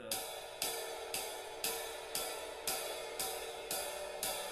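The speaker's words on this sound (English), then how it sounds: "the quarter note on the ride cymbal, which really helps blend with the bass quarter note" A jazz ride cymbal struck in steady quarter notes, nine even shimmering strokes, each washing into the next at a relaxed tempo.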